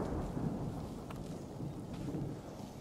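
Low, distant rumbling thunder rolls on continuously under steady rain on a river island in the Danube, with no voices.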